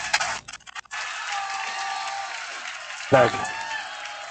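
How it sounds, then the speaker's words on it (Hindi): Steady applause from an audience at a coaching institute's class 12 results celebration, greeting a high-scoring student. The clapping is dense and moderately loud throughout, with a short burst of louder noise near the end. "इनके लिए जोरदार तालियों से स्वागत किया जाए"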